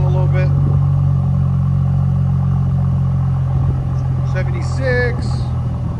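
A Mercedes E 400 with a 3.0L twin turbo V6 idles with a low, steady exhaust rumble that holds evenly throughout, while people talk briefly over it.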